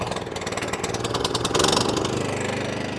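A vintage cylinder lawn mower's petrol engine idles close by with a steady, rapid chugging pulse, briefly swelling louder midway before settling back to an even idle.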